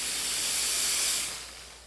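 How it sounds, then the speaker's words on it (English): Carico ProSeries 360 dry steam cleaner releases a loud, steady hiss of steam when the trigger is pulled, then tapers off after about a second. "to operate the steam, you simply pull the trigger"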